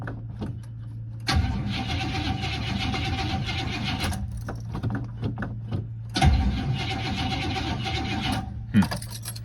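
A 1969 Buick Skylark with a dead cylinder cranks over with a rattling, uneven starter churn. Two long cranking bursts are separated by brief pauses, with a steady low hum underneath.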